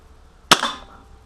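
A KWC P-08 Luger CO2 blowback airsoft pistol fires a single sharp, loud crack at close range, its snapping report decaying quickly with a brief metallic rattle of the moving bolt.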